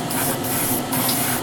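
An aerosol spray can lays a light coat of paint on a Tamiya Castrol Celica WRC model car body, giving a close, loud hissing spray in two sustained bursts with a brief break between.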